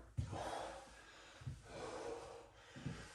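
Heavy, close breathing after a lower-body leg workout, a few deep gasping inhales and long exhales in a slow, labored rhythm with no talk.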